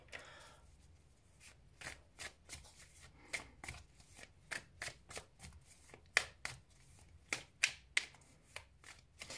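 Oracle cards are shuffled by hand, with a run of crisp, short riffling snaps and slaps that repeat at an irregular pace, close by but fairly soft against a quiet room.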